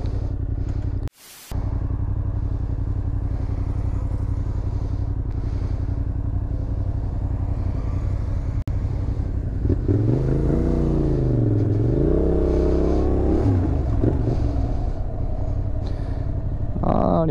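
A motorcycle being ridden: a steady engine drone fills the clip, with revs rising and falling audibly in the second half, and nobody speaks.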